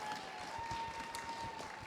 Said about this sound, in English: Can we have a big round of applause for Kirsty and Amelia?